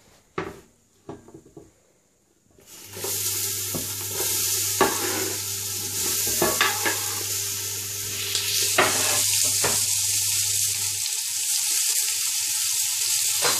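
Bell peppers dropped into hot oil in a home kitchen pan: after a few quiet knocks, a loud, continuous sizzle starts and runs throughout, with scattered clicks and scrapes from stirring.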